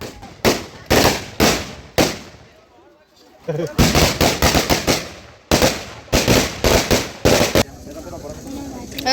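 Firecrackers bursting at a Hanuman Jayanthi celebration in Singapore, rapid loud crackling volleys in three long bursts separated by brief pauses, with background crowd noise between them.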